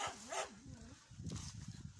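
A farm dog guarding a homestead yard barks a few times at a distance, faint beneath a person talking nearby in a quiet outdoor garden setting.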